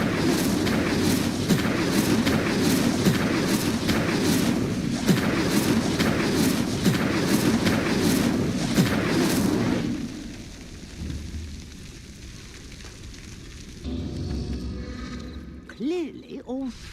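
In the Hogwarts Legacy video game, an Incendio fire spell lights pyres. A loud, steady roaring rush with rhythmic surging pulses runs for about ten seconds, drops to a low rumble, then ends in a few brief whooshing magical swells.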